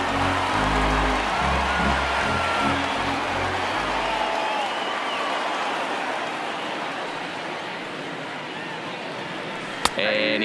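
A baseball stadium crowd in the MLB The Show 19 video game, Cubs versus Dodgers, makes a steady, moderate murmur of applause and hubbub throughout, with a commentator talking over it at first.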